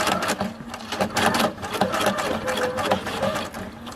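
A sewing machine runs fast and close while tacking down lace in free motion sewing, a continuous loud stitching chatter with slight surges in speed.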